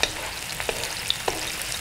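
Mustard greens with shrimp and meatballs stir-fry in a hot pan, giving a steady, close sizzle broken by a few sharp clinks of stirring, with no voices.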